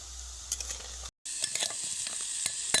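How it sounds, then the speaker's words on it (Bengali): Semolina kalo jam sweets frying in hot oil while being stirred, a steady bubbling sizzle with scattered close scrapes and clicks from the spoon, broken by a brief cut to silence partway through. "এবার এগুলোও একই রকমভাবে ভেজে নেব নাড়তে হবে"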